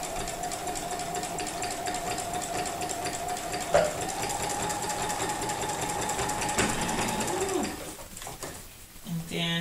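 A sewing machine hums steadily while free motion quilting in the ditch, a continuous motor whir with a sharp click midway and shifting tone near the end.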